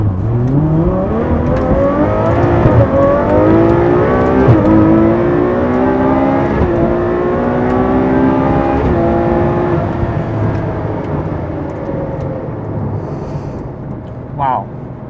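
A Ferrari 812's 6.5-liter V12, paired with a 7-speed double-clutch gearbox, revs loud and close, its howl climbing and sweeping through repeated rises before easing off toward the end.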